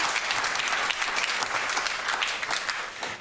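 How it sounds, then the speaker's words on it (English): Enthusiastic studio audience applause for the winners of a TV quiz show, a close, dense burst of clapping that stays full and even before tapering slightly at the end. "A round of applause for our winners tonight,"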